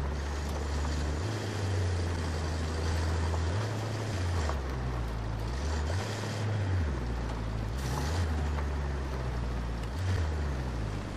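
A truck in the video game Ghost Recon Breakpoint drives with a low droning engine that rises and falls in pitch through gear changes, steady and fairly close, with wind-like noise around it and no talk.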